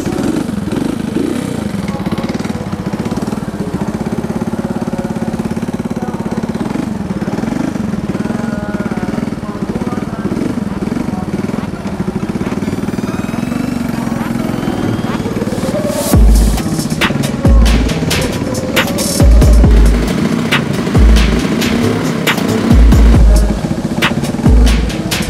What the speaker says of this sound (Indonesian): saya akan mencoba motor ini dengan menghidupkan motor ini